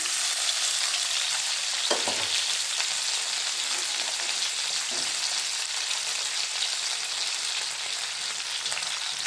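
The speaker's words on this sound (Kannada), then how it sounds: "ಇವಾಗ ಇರೋ ಎಣ್ಣೆನಲ್ಲೇ ನಾನು ಮೂರು ಟೊಮೆಟೊನ ಹಾಕೊತಾ ಇದ್ದೇನೆ" Three tomatoes fry in hot oil for a paneer capsicum gravy, giving a steady, fairly quiet sizzle with a few soft stirring scrapes and no voices.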